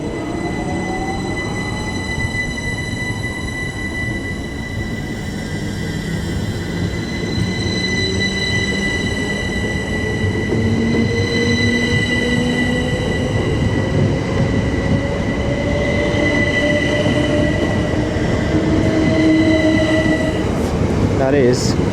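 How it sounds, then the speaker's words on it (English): A pair of Great Northern class 387 electric trains pull out of Cambridge station toward London King's Cross, rising motor whine and squealing wheels building steadily, loud and close, for the whole stretch. "departing here for London King's Cross is a pair of Great Northern 387s"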